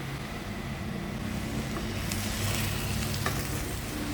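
Beef roast liquid poured into a pressure cooker gives a steady, close sizzling hiss that runs evenly through the whole stretch, with no voices.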